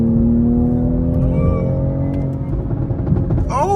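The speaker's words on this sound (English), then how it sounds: "Yo, Lucky, let me drive this shit back." Toyota Supra car driving and accelerating from inside the cabin, a steady loud engine drone with rising revs and tonal whine, ending with a brief squeal.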